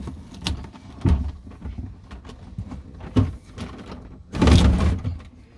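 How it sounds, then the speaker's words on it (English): The sliding door of a Mercedes Sprinter campervan rumbles along its track with clunks and rattles, ending in a loud, close slam as it shuts. "it's got a sensible sliding door"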